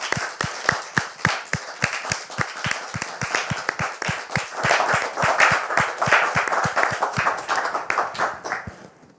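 An audience claps in applause: a rapid, steady patter of many hands that swells to a dense peak mid-way, then thins and fades. No one speaks.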